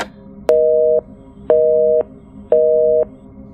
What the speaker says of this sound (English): Then the line disconnected.